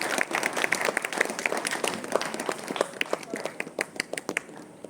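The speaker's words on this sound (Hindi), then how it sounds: "जोरदार तालियों के साथ इस छठ का आनंद है।" A seated audience at a training program on waste management claps loudly, with many sharp individual claps standing out in an uneven, lively burst that thins toward the end.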